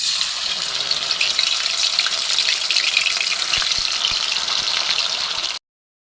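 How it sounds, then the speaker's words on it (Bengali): Loitta fish (Bombay duck) frying in hot oil over a wood-fired stove, a steady, close, bright sizzle with crackling that holds for about five and a half seconds before cutting off abruptly. "এই যে লইট্টা মাছ সব মেশানো আছে, এইগুলো আমি একটা একটা করে ভেজে নেব।"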